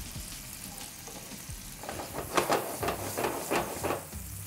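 Onions and fennel hit a hot pan for pasta and sizzle into a rising hiss with crackling pops, building from quiet stirring noises to a steady, close frying sound.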